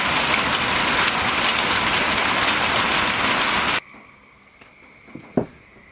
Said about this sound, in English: That storm came up quick. It was just one little one that went through, and hail and strong winds.